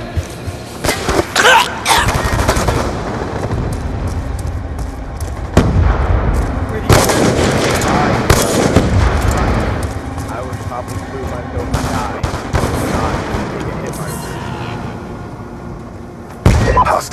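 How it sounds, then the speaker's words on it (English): Grenade blasts and gunfire in Call of Duty Black Ops 2 team deathmatch multiplayer, booming explosions and bursts of shots over continuous game noise, with voices talking throughout. "Throwing grenade."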